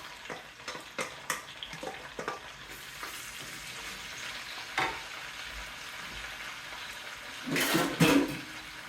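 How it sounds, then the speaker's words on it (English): Mushrooms fry in a pan with a soft ongoing sizzle, broken by scattered clinks and scrapes of stirring and a louder burst of hissing and clatter near the end, close by. "So let's wait for the mushrooms to cook."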